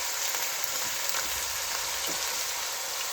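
Two small onions fry in hot oil with garlic and ginger for masala eggs, giving a steady, bright hiss and crackle throughout with faint stirring taps.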